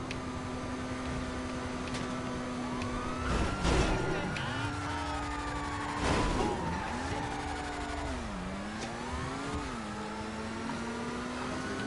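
A car in GTA V brakes hard with long wavering tire squeals, engine pitch sliding up and down, and a couple of thuds over a steady motor drone, while a voice talks faintly in the background.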